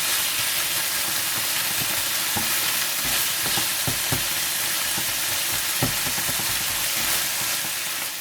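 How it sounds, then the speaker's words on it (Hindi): Chicken mince filling frying with soy sauce, a dense continuous sizzle with scattered crackles and occasional stirring scrapes, close and steady with no one speaking. "और सोया सॉस डालकर अच्छी तरह से फ्राई कर दें।"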